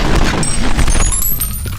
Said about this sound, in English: I'm always stumbling straight into gunfire after these pumped up kicks.